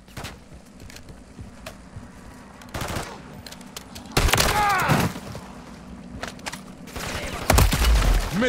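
Gunfire aimed at the player rattles out in intermittent automatic bursts during a Call of Duty MW3 Zombies match, quiet spells between them and the loudest, densest volleys arriving near the end.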